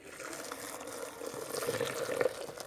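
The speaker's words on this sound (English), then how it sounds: "So I have here my Vitamix and just pour" Coconut milk is poured into a Vitamix blender already holding chopped tofu, a steady close liquid stream and splash that grows slightly louder toward the end, with no talking over it.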